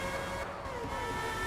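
A car engine revs hard in Forza Horizon 5, a dense, loud, continuous roar filling the short moment with no pause.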